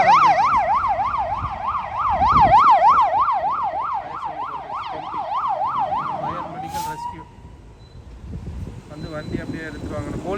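Fire service emergency vehicle sirens wail loudly and close by, a rapid yelp pattern cycling steadily before cutting off around midway, with traffic noise and voices underneath.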